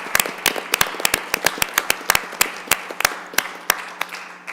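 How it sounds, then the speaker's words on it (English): A small group at a village council meeting gives a round of applause, a sparse scatter of individual sharp claps in an uneven rhythm, close and distinct against a quiet room with a low steady hum. "I'd love to give him a round of applause"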